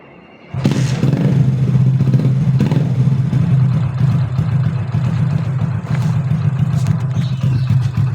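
A loud commuter motorcycle with an SC-Project aftermarket exhaust starts up and revs close by, its deep throaty exhaust rumbling steadily with slight rises in pitch.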